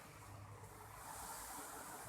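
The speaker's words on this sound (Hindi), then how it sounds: "बहुत ज़्यादा पानी स्पीड में आ रहा है" Fast-flowing river water rushes through the Islam Headworks on the Sutlej River, a steady broadband roar heard alone without any voices.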